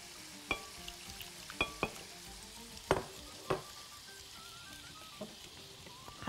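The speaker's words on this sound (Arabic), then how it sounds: "هقلب كده كويس قوي" Cauliflower with sausage, cumin, garlic, tahini and water being stirred in a pan: a quiet, steady sizzle broken by a handful of sharp spoon clacks against the pan, spaced irregularly.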